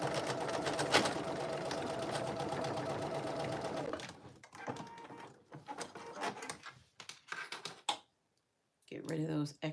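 A sewing machine stitches down the ends of a D-ring tab in a fast, close run for about four seconds. Then comes a scatter of short bursts and clicks with pauses, and faint handling noise in between.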